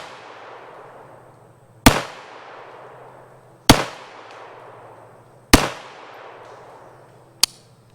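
A Japanese handgun fires four sharp, loud shots about two seconds apart, each ringing out with a decaying echo; the last report is shorter and slightly weaker.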